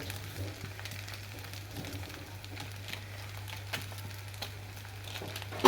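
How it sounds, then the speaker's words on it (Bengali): Egg chow mein is stirred in a frying pan, giving a faint, steady sizzle with light scraping and tossing clicks under a low constant hum, close and quiet throughout. "এতে চাউমিনগুলো দিয়ে আমি ভালো করে নেড়ে চেড়ে নেব।"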